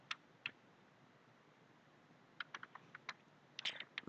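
Computer keyboard typing, a few isolated key clicks and then short bursts of taps, close and quiet in a hushed room with no talk.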